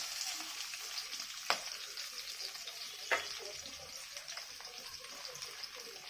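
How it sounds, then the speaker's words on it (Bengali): Onions frying in hot oil with green chillies for a mutton mince fat curry give a soft, steady sizzle throughout, broken by two brief stirring clinks, with no talking. "পেঁয়াজটা লাল করে ভেজে নেব।"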